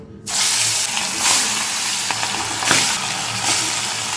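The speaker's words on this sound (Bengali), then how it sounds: "এখানে তেল গরম করতে দিয়েছি এখন এই মাছগুলো ভেজে নেব" Fish fries in hot oil, a loud hiss that erupts suddenly and continues as a dense, steady sizzle with slight swells.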